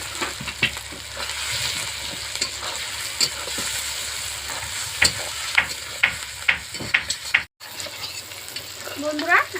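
Spices, dried chilli powder and chopped tomato fry hard in a pan for a poultry curry, with a constant close sizzle broken by repeated scraping strokes of a stirring spoon.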